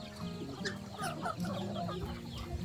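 Geese call continuously, overlapping nasal clucks and honk-like cries from several birds close by, with no talking.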